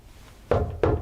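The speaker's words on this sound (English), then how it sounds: "I'm gonna knock on the wall real quick." Two firm knocks on a wall inside Malvern Manor, evenly spaced and close, each a dull hollow thud over quiet room noise.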